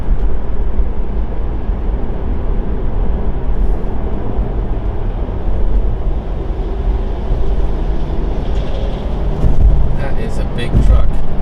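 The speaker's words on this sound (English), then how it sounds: "Big truck." A big truck rumbles past a Tesla on the road, a loud steady low roar of engine and road noise that swells slightly near the end.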